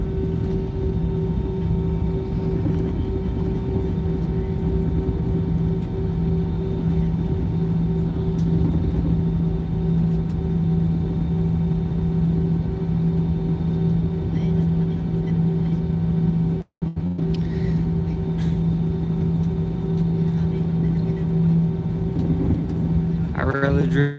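Steady low cabin rumble and engine drone inside an Airbus A320 taxiing toward the runway at Cebu Mactan, a constant hum with a brief dropout partway through.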